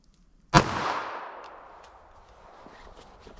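A single sharp .380 ACP gunshot from a pocket pistol, fired into ballistic gel backed by fiberboard, cracks once and then echoes away over a couple of seconds.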